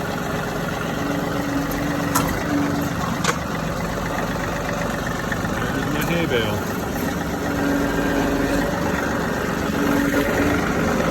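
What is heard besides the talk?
John Deere 3038 compact tractor engine idling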